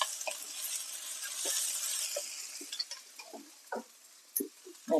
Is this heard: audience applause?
no